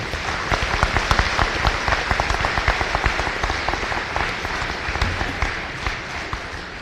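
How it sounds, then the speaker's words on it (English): An audience at a Veterans Day program applauds a band and student choir, a dense patter of many hands clapping that swells early and then slowly tapers. "Give them another round of applause, please"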